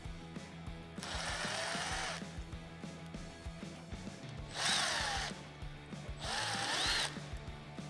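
A power tool drives screws out of the middle bow of a Jeep Wrangler JK four-door soft top, with three separate whirring bursts of about a second each, separated by quieter clicks and handling noises.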